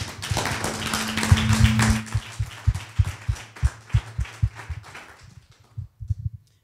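An audience at a Universidad Bio4 seminar gives a burst of hand clapping for a licentiate named Pedro. The applause is dense for about two seconds, then thins into scattered separate claps that taper off near the end.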